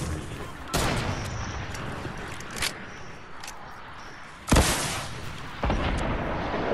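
Fortnite sniper rifle gunfire during a squad match, several sharp cracks spread across a few seconds, the loudest near the end, standing out against steady game ambience.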